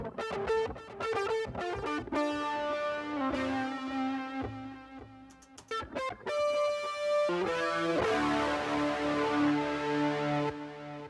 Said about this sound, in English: we have a couple of fuzz guitars because I like fuzz.